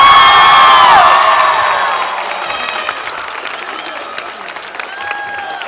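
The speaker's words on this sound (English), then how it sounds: "Graduates, after the count of 3, you may throw your hats in the air and cheer." Graduates at a ceremony cheer and whoop loudly as a crowd, with applause underneath, the burst strongest at the start and easing to a lighter, sustained clatter of claps.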